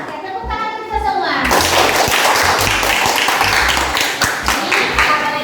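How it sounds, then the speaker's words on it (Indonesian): A crowd of schoolchildren in a classroom claps hands together, steady loud applause with some voices mixed in. "Oke, tepuk tangan kita semua."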